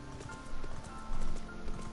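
Odin's horse in the video game Final Fantasy XIV, hooves clomping on the ground in a few soft, quiet thuds beneath a steady game-music bed.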